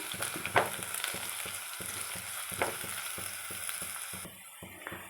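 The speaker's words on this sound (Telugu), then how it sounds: "మధ్య మధ్యలో కలుపుతూ తిప్పుకుంటూ ఉండాలండి లేకపోతే ఒక పక్కనే మాడిపోతాయి" Potato pieces sizzle steadily in hot oil in a pan while being stirred, with repeated soft scraping strokes and a few sharper clinks over the continuous frying hiss; no voices.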